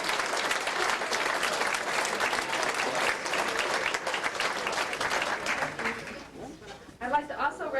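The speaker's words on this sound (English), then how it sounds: "I think that deserves a great big round of applause." Audience at a 1993 homecoming reunion-class fundraising event breaks into sustained, dense applause that holds steady for about six seconds, then thins into scattered claps with a few whoops at the end.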